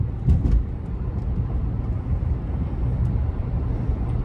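A Chrysler 300 drives at night, its steady low road and engine rumble rolling on evenly with no talk.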